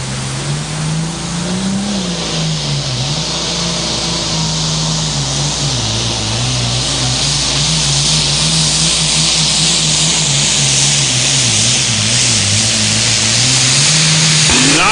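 A 9,300-pound Super Farm class pulling tractor with a 3-inch turbocharger runs a tractor pull at the 2023 NTPA Grand National in Sandwich, Illinois. Its engine roars loud and close, holding a steady pitch that wavers a little and climbs near the end.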